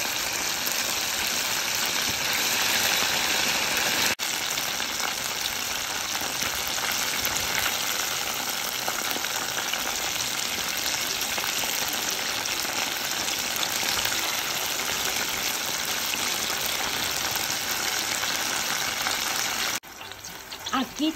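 Chicken wings for spicy buffalo wings frying in oil until golden, a loud, steady close sizzle with a brief pause near the end, no talking.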